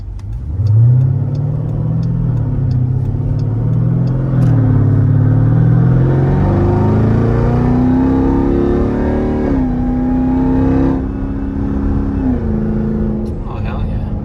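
A Chevrolet Corvette C8 launches hard in launch mode, its engine note climbing steadily through the revs in a loud, close, continuous pull, with people talking and exclaiming over it.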